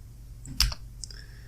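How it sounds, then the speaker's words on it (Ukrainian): A few quick computer keyboard key presses typing a number into a C/C++ program, a soft cluster of close clicks over a quiet room hum. "Запускаємо програму. Пишу 300."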